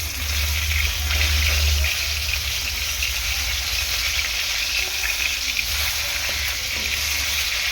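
Katla fish pieces frying in oil in a pan, producing a steady, loud, close crackling sizzle that runs unbroken with no voices.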